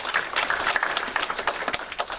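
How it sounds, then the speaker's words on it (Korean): Church congregation clapping during a Sunday worship service to encourage a newly elected deacon, a sparse, uneven patter of hands with a few sharp distinct claps, moderately close and thinning toward the end. "박수로 격려하도록 하겠습니다."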